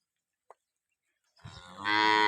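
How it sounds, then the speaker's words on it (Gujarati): A local cow moos once, loud and close, rising into a long sustained low call after a faint brief click, with no talk. "તમામ લોકલ ગાયો છે"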